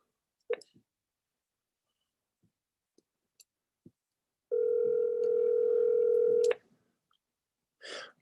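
A phone call begins with a few faint clicks, then a steady two-second tone sounds, clear and close, and is followed by a short burst of noise.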